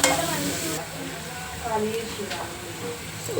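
Chopped onions and green peas frying with salt in a pan for a paneer masala curry: a steady, close sizzle with occasional stirring scrapes, under someone speaking.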